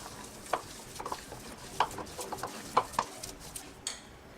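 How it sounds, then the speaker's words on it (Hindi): Mashed leftover rice is mixed with rice flour and a spoonful of oil for vada, giving soft wet squelches and irregular short clicks of stirring close by. No voices. "अच्छे से मिक्स कर लेंगे।"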